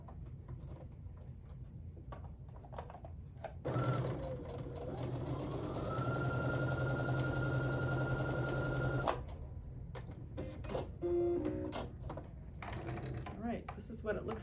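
Quiet handling sounds give way to a sewing machine stitching a quilt block in a steady, close whirring run lasting about five seconds, followed by soft clicks and a few spoken words.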